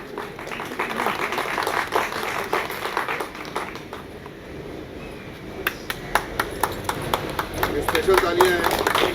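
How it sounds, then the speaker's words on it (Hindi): An audience at a Hindi TV show launch event claps in a crowded burst, the applause swelling then thinning into sharper scattered claps, with voices talking over it. "स्पेशल तालियां हैं।"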